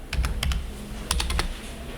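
Crisp keystrokes on a computer keyboard: a few scattered taps, then a quick cluster of clicks that ends with a key press, all close and clear over a low room hum.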